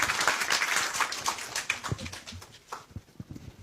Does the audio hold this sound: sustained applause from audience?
yes